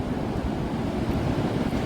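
Morning ocean surf rolls in as a steady, broad wash of breaking waves, fairly faint and continuous, with some wind rumble and no voices.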